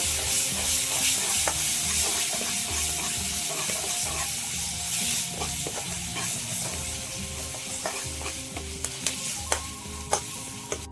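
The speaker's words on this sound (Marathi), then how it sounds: "आता टाकून देऊ आपण हे मटर आता परतून घेऊ मस्त" Peas sizzle and fry in an oily gravy in a pan while a spoon stirs and scrapes, producing a steady crackling hiss with occasional sharp clinks near the end.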